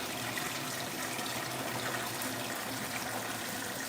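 Water gushing steadily into a car wash bucket, a continuous loud splashing and bubbling fill heard up close with no pauses.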